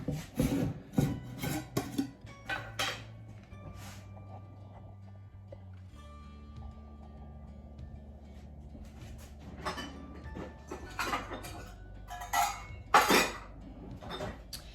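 Bread flour and a teaspoon of salt being scooped and tipped into a bowl for white sandwich bread, with clustered rasping scrapes and clinks of the measuring cup, loud at the start and end around a quieter middle stretch.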